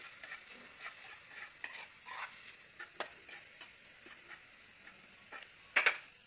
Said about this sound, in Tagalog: Pagtiyagaan lang po natin tong halu-haluin